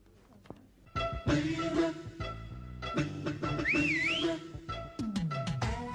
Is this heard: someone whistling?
yes